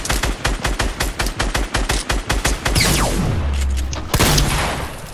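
Rapid machine-gun-style gunfire from Fortnite Battle Royale rattles off in a fast, steady burst of evenly spaced shots, then gives way to a louder rushing blast and a final sharp crack near the end, with no talking.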